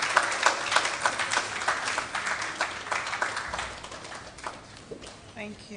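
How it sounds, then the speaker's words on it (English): A round of applause rises for the arrival of a guest of honour at a school renewable energy launch event, scattered clapping from a hall audience, moderately loud and thinning toward the end. "Shall we please, with a round of applause?"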